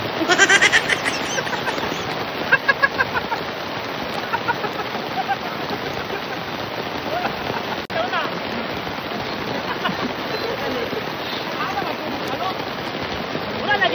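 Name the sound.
rain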